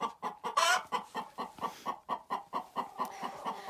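Hens in a coop cluck loudly and insistently up close, a rapid regular series of about fifteen sharp clucks with one harsher squawk near the start.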